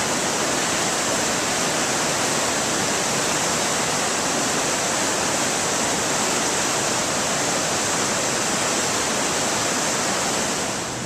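The Little Susitna River in Alaska's Hatcher Pass runs as a steady, loud broadband rush of flowing stream water, close and unbroken for the whole stretch, with no voices over it.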